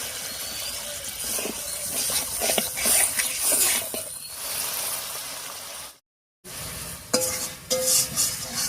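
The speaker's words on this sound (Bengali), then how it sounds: "এবারে মশলাটা খুব ভালো করে কষিয়ে নেব।" Spice paste with spice water, salt and turmeric frying in a pan for a jackfruit curry: a continuous loud hiss and sizzle with scraping stirs, a brief cut to silence, then more sizzling and clinks.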